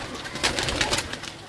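A pet pigeon hen gives a short, soft, low coo, close to the microphone, with no talk over it.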